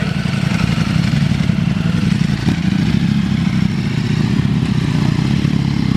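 Loud Ducati motorcycle engines rumble and rev close by as the bikes pull in, with clattering mechanical noise throughout.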